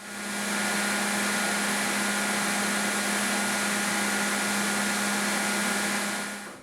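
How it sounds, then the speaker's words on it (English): A belt grinder runs steadily while grinding knife bevels on its flat platen, a loud, continuous abrasive whir with a low motor hum throughout, heard alone with no talking. "Personally, I use this one for most of my grinding work,"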